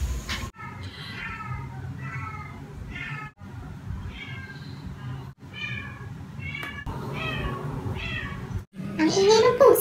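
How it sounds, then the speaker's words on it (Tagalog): A cat meows repeatedly in drawn-out, wavering cries, loud and close, with a low background hum and a sharper yowl near the end. "Ang ingay ng pusa!"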